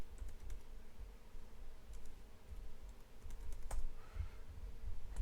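Laptop keyboard keys tapped in a short steady burst of typing while a new password is entered during setup, the clicks close and fairly quiet over a low background hum.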